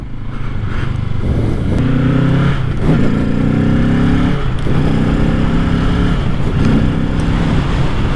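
A brand-new 2025 Kawasaki Ninja 650 being ridden, its engine loud and close as it climbs through several moderate revs and gear changes over steady wind and road noise.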